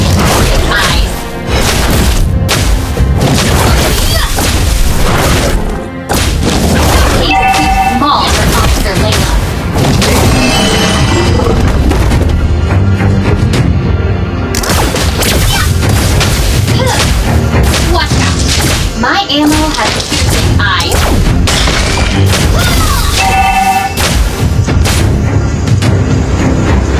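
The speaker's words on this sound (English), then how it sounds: "Let's put the energy gun to the test. Watch out! My ammo has target eyes." Layla's energy gun firing in the Mobile Legends mobile game, dense rapid booming shots and impacts packed with whooshes and crashes under game music, loud and nearly continuous, with character voice lines over the top.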